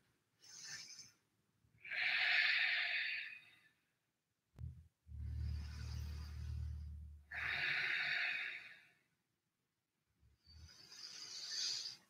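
Slow breathing held during a morning yoga pose, with hips raised and gaze toward the ceiling: three long breath cycles, each a soft airy inhale or exhale with pauses between, close and quiet, with no talking.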